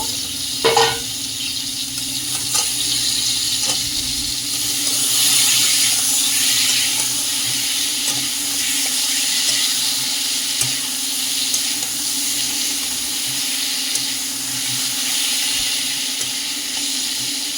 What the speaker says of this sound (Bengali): এভাবে ঢাকা দিয়ে দিয়ে আমাকে ভেজে নিতে হবে লাল লাল করে পটলগুলো